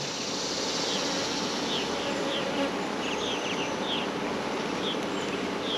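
Honeybee workers crowd a brood frame pulled from a hive during an inspection, making a dense, continuous close-up buzz with individual bees droning past now and then.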